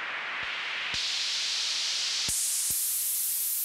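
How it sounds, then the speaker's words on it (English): A hissing white-noise riser swelling continuously, broken by several sharp low thumps and abrupt tonal shifts, then cutting off suddenly at the end. "So this is a riser, like it's just a basic like white noise sweep."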